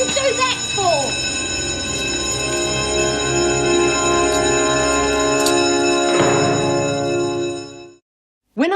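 An electric bell in a women's prison rings loud and continuous for about eight seconds, a steady metallic clang under brief shouting voices, then cuts off abruptly.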